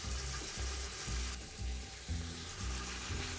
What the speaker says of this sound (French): On va faire revenir notre viande. On va y ajouter en même temps